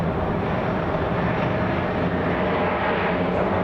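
A heavy Delta airliner roars steadily on takeoff from runway 26 left at Atlanta Hartsfield-Jackson, a loud broad engine rush throughout with no voices.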